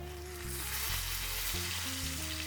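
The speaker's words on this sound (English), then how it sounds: "The beef fat is beginning to render into that pan and the butter is cooking and caramelising." A rib-eye steak and butter sizzle and fry steadily in a hot pan, a close, continuous crackling hiss with a background hum of tonal layers underneath, no talk.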